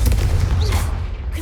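A Confringo fire spell in Hogwarts Legacy bursting in a dark corridor, a loud booming blast with a low rumbling tail, heard close without talk.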